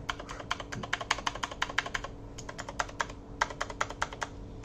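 Typing on an AKKO DS Horizon V2 mechanical keyboard with Blue switches and PBT double-shot keycaps, crisp rapid clicky keystrokes in quick bursts with a brief pause midway, close and fairly quiet.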